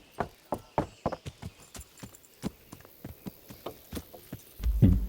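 A horse's hooves clip-clop at a steady walking pace in the medieval video game Kingdom Come: Deliverance, with clear, evenly spaced hoofbeats heard close up and a louder burst of noise at the end.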